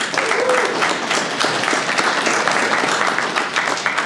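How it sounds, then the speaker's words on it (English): Audience applause fills a radio club meeting room, steady and dense clapping from a crowd for about four seconds, loud and continuous with no talking over it. "Another round of applause for them"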